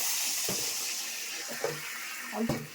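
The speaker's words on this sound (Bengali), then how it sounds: "জল দিচ্ছি।" Water is poured from above into a cooking pot set over a pot of rice, a steady hissing splash with a few light knocks of the vessel, close and without talk.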